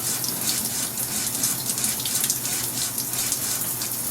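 Tap water runs steadily into a sink while dishes are washed with a sponge, a close continuous splashing hiss with no speech.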